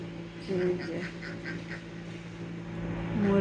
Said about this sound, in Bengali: এই যে হাঁসগুলা হচ্ছে বাহিরে আসছে